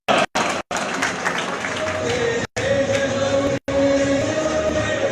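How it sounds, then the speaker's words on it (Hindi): Applause at a PML-N youth consultative meeting in Mansehra, greeting a guest from Berkund; fairly dense clapping runs through, broken by a few sharp dropouts. "उनके लिए भी भरपूर तालियां हैं"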